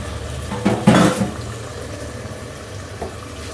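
Chicken hits a pan of frying onion and ginger-garlic paste with a loud clatter and burst of sizzle, followed by a softer steady crackle of frying and a small knock near the end.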